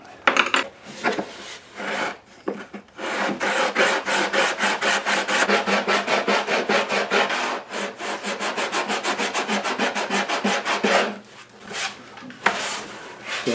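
Rhythmic rasping strokes of hand sanding on a baritone guitar's wooden arm bevel, fast and steady, with brief pauses between bursts of back-and-forth rubbing, close up.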